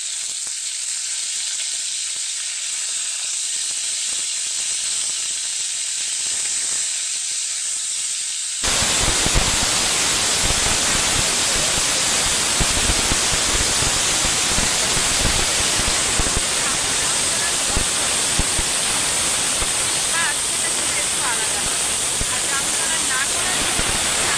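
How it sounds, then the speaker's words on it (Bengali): Chicken pieces for a homemade chicken soup hit a hot wok over high heat. After a quiet stretch, a loud, dense, roaring sizzle starts suddenly and carries on steadily up close. "চিকেনটা কড়াইতে দেওয়ার পর এতটাই আওয়াজ হচ্ছিল চিকেনের, এতটাই কড়াইতে আওয়াজ হচ্ছিল"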